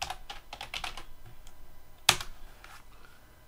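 Fingers type a terminal command on a computer keyboard, a quick run of light, close clicks followed by a sharper single keystroke, like the Enter key, then a quiet tail.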